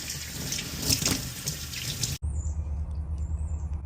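Tap water runs steadily over wild-collected aquarium rock and plants as they are rinsed in a sink, a close, continuous splashing rush that cuts abruptly to a quieter trickle with faint drips.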